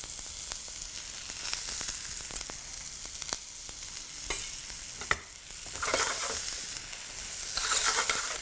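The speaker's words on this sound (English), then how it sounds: "Saute it nicely till it's almost translucent." Ginger and shallots frying in a pan for a prawn and squid curry, a continuous close sizzle broken by repeated spatula scrapes and stirs that swell louder toward the end.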